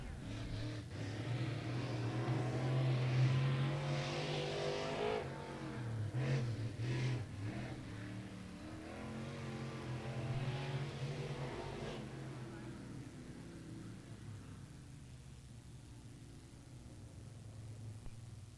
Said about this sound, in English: First lap around for Shane Endicott